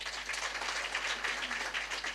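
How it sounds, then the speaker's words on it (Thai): Audience applause at a gathering, a brief burst of steady, dense clapping from many hands, close and even throughout with no voices over it. "ขอเสียงปรบมือ"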